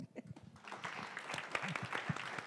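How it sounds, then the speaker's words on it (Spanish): Audience applause at a panel on children's rights legislation, a room of people clapping steadily and moderately loud, with a few voices murmuring underneath. "¿Qué tal si todos nos damos un aplauso?"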